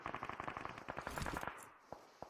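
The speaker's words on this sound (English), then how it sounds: "A lot of gunshots in the distance, though." Rapid bursts of gunfire in the video game PUBG Mobile crackle in quick succession, then thin out to a few isolated shots, sounding somewhat distant and echoey.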